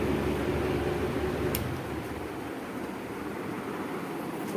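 A loud electric fan runs indoors with a constant broadband whoosh, steady and close throughout, with one brief click partway through and no talking.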